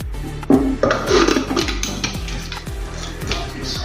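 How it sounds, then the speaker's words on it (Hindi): Metal clatter at a home kitchen stove as the lid goes onto a pressure cooker of toor and chana dal: a sharp clank followed by several scraping, knocking metallic contacts, close and loud, with no talking. "तभी हम ढक्कन लगा देंगे इसको"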